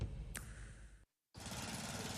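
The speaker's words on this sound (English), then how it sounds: "I'm just mowing the lawn." A lawn mower runs on a hot, dry lawn in a public service ad, a loud, dense engine roar close by that drops out briefly to silence and then snaps back at full strength.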